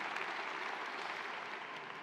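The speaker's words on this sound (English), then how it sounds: "That deserves some applause" Steady, dense clapping fills a large hall as a graduation audience applauds throughout, an even wash of many hands with no voices over it.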